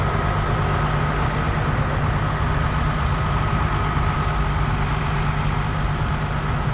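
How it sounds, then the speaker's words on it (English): A bus idles close by on a college campus street, a loud, steady, low diesel rumble that drones on without a break. "I've got this bus making a lot of noise right behind me"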